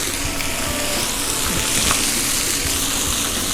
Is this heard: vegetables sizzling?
yes